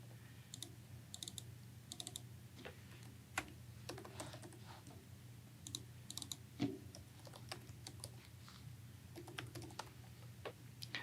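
Quiet clicking of a computer keyboard as text is typed, in irregular bursts of keystrokes against a faint steady hum, with no talking.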